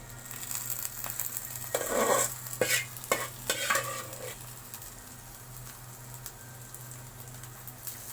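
Spiced meat filling is mixed with its broth in a pan for samosas: a few scraping, clattering stirs with a faint sizzle in the first half, then quieter.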